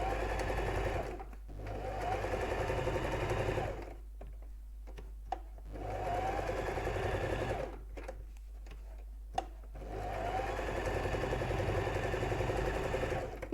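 A sewing machine stitching fabric for a decorative Easter toy bunny, running in three steady whirring bursts with brief pauses and small clicks between them, close and clear.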